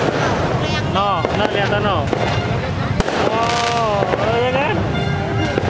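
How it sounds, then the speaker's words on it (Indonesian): Firecrackers exploding outdoors at New Year in West Jakarta: sharp pops and bangs, one loud crack standing out among the others, heard under a child and an adult talking. "Itu lihat ya, lihat mercon."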